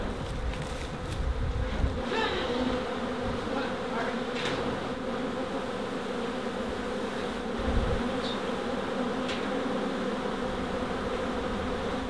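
Honeybees flying around a hive from an old brood comb cut-out buzz in a dense, continuous drone, with individual bees whining close past now and then over the steady swarm hum.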